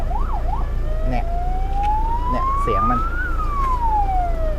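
A loud electronic siren from a 2019 Toyota Revo pickup's loudspeaker plays at close range, starting with quick warbles, then a slow rising and falling wail over a steady engine hum.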